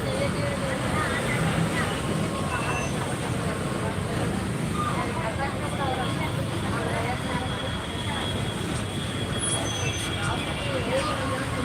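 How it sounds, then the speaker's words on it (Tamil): Busy city road traffic in Coimbatore makes a constant broadband roar of passing engines with a faint distant horn, while a person talks nearby over the din. "Coimbatore traffic sir"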